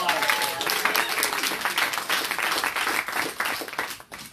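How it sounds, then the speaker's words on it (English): An audience at a live comedy show claps loudly, a dense wash of applause that holds strong before thinning out toward the end. "we want a big round of applause"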